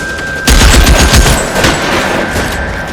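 Gunfire from the L.A. Noire video game on PS5: a dense burst of rapid shots erupts after a quiet half second, then keeps rattling and echoing at a steadier, slightly softer level to the end.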